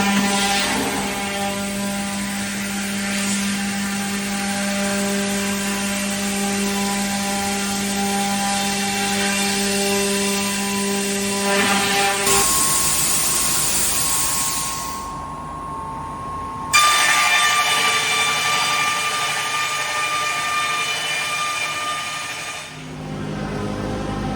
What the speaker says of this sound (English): we're going to go ahead and watch this panel get cut with our CNC machine